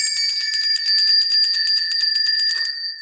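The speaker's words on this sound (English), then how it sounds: "You ring the bell before you go through the archway" A bell used to cleanse a tarot deck rings in a sustained, bright tone, struck repeatedly in a fast shimmering tremolo, loud and close, then fading slightly at the end.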